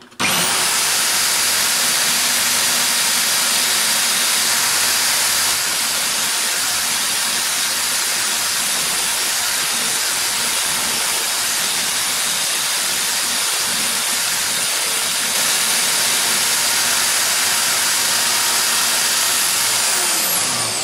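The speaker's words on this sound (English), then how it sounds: "I'll give it a quick wire brush" A wire brush scrubs a metal name plate in a continuous loud, harsh hiss that runs for about twenty seconds with almost no break, close by.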